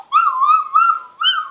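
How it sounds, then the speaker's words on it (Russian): A small dog, just in from the cold rain, gives three close, clear whimpering whines, each stretched and wavering, separated by short pauses. "Моя собачонка, наверное, очень замерзла."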